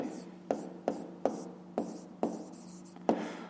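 Handwriting on paper during a fifth-grade maths exercise: a series of about seven crisp scratching pen strokes, close and quiet, spaced roughly every half second.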